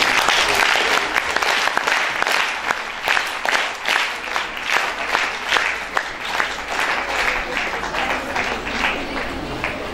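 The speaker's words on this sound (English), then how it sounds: "Let's welcome them with a huge round of applause." A crowd at the Medha Manyata Divas ceremony at Bhavan Vidyalaya school in Panchkula gives loud, sustained applause, with many hands clapping in rapid overlapping bursts that ease slightly toward the end.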